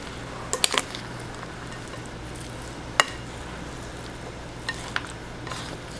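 A Greek yogurt and avocado dipping sauce stirred in a bowl, a quiet wet swishing with a few sharp spoon clinks against the side over a faint steady hum.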